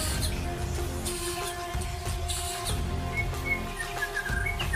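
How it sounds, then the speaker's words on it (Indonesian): A white-rumped shama (murai batu), a songbird being readied for a singing contest, gives its chattering call: a scattering of sharp chirps and whistles over a low background murmur, fairly quiet and intermittent. "suara cetrekan gas burung murai batu"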